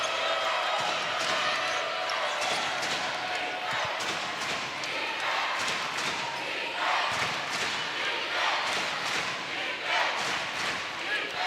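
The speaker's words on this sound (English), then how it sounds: "Lively crowd here for the season opener." A lively crowd fills the arena at a women's college basketball season opener, a steady loud roar with scattered cheers, ball bounces and thumps throughout.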